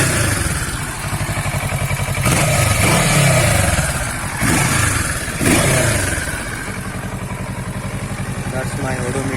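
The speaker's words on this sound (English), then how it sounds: "let's go ahead and rev it up a bit to about 3000 RPM mark and see how it sounds" A Kawasaki Versys 650 motorcycle engine is revved to about 3000 RPM from idle in a few loud, close blips, then settles back to a steady idle.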